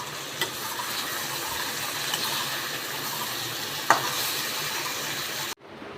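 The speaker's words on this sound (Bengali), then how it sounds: "এবার গ্যাসটা স্লো ফ্লেমে দিয়ে খুব ভালো করে ইঁচড়টাকে খুব ভালো করে কষিয়ে নেব" Young jackfruit and spices sauté slowly over a low gas flame with a soft, steady sizzle and a few light stirring clicks. The sound stops abruptly near the end.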